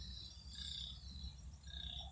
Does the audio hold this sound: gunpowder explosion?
no